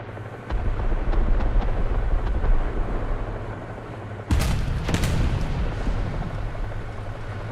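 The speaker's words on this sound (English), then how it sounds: "Where did I just get shot from?" In War Thunder, an enemy round hits an M1128 Stryker armored vehicle with a sharp, loud impact crack and short rumble, followed by a second smaller hit, all over a steady engine drone.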